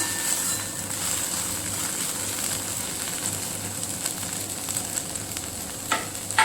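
Okra (bhindi) cooking uncovered in a pan, a steady low sizzle and gentle frying hiss running evenly throughout, fairly quiet with a small clatter near the end and no talking.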